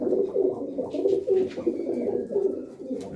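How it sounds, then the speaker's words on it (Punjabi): Flying pigeons kept by DC of Lohakhera coo in a steady overlapping chorus, close and fairly loud, low warbling calls rolling on throughout without pause. "ਡੀਸੀ ਲੋਹਾ ਖੇੜਾ ਵਾਲੇ ਬਾਈ ਦੇ ਕਬੂਤਰ ਨੇ"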